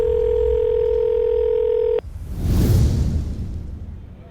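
A steady telephone dial tone hums loud and unbroken for about two seconds, then cuts off abruptly and gives way to a rushing, breathy whoosh.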